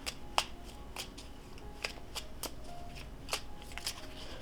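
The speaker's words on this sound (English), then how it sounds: "Just wish it was a little bit bigger, like wider, so it's easier to shuffle." A small, narrow deck of reading cards is shuffled by hand, giving a string of crisp, close riffling snaps at an uneven pace over a quiet room, with no talking.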